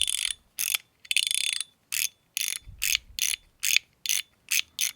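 Shark EDC fidget toy in stainless steel or titanium, its mechanism making a rapid series of crisp, bright clicks in short bursts, a dozen or so in quick succession, close-up and without talk.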